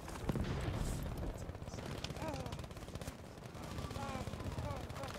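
Rapid bursts of gunfire, machine guns among them, crackle in a busy Battlefield V battle, with dense overlapping shots near and far under steady rumble and occasional voices.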